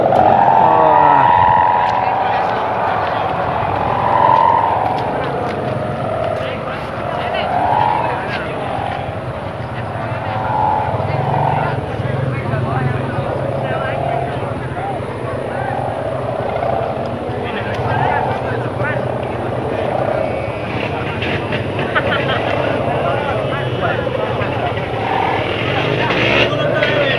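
Several kite hummers (sendaren) on flying kites, including one on a 2-meter kite, drone in a continuous overlapping hum with wavering pitch, heard outdoors in light wind with people talking faintly in the background.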